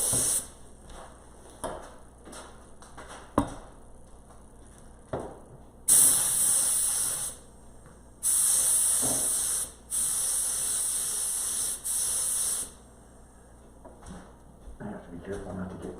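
A spray gun lays down HOK clearcoat in several long, steady hissing bursts separated by pauses, with quieter clicks and handling noises between passes.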